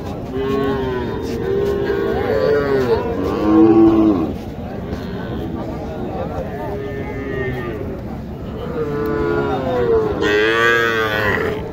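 A small bull at a rural cattle market in Naogaon moos loudly and close by in several drawn-out calls. Voices and market chatter continue in the background.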